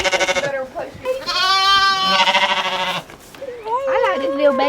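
Goats at a petting zoo at General Coffee State Park campground bleat loudly and close up, with several wavering, overlapping cries in quick succession.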